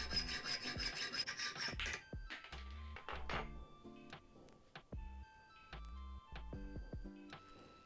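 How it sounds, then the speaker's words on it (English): A hacksaw cuts through a nail held close up, quiet scraping strokes in an uneven back-and-forth rhythm, with a denser rasping burst at the start and no talking. "then I can get that cut out again with the hacksaw"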